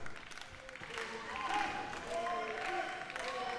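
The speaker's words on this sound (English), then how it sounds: "Crowd behind him chanting gorgeous." A wrestling crowd chants rhythmically behind the action at an indoor event, voices swelling and sustained under a commentator talking over it.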